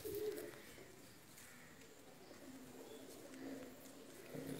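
A pair of golden pigeons kept by fanciers coo softly and faintly in low, repeated murmurs against a quiet background.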